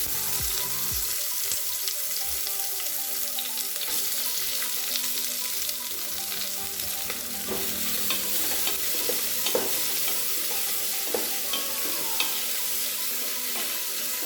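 Chopped onion sautéing in hot ghee with bay leaves, a steady close sizzle and crackle with occasional stirring scrapes against the pan, no voices.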